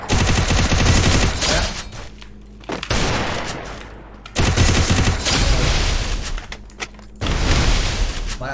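Video game gunfire comes in loud, rapid automatic bursts. Heavy volleys are separated by short pauses, with booming reports close and dominant.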